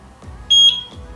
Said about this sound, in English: click on sync button until you guys hear a beep